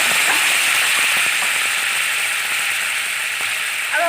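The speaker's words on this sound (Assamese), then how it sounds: "এতিয়া মই এখন পেনত এইখিনি অকণমান উতলাই দিম।" Taro and tomato mixture frying in a hot pan, a steady dense sizzle with faint stirring scrapes running throughout, close and fairly loud with no voices.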